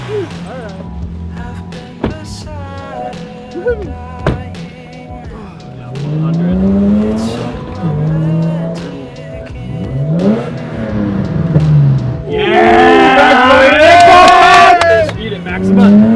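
A car engine revs hard while driving, its loud, close roar sweeping up and down in pitch over and over, with tire squeal and a brief spoken voice mixed in.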